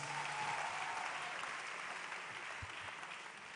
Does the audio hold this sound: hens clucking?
no